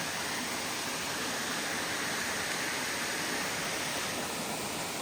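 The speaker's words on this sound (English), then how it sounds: "The waterfall's really nice." A waterfall on a hiking trail in Queensland makes a constant, even rush of falling water, steady and broadband with no breaks, heard alone with no talking.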